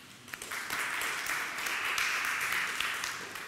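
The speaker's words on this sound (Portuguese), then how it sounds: "Queria uma salva de palmas" Audience applause in a conference hall, a steady wash of clapping that builds after a brief start and holds at moderate level to the end.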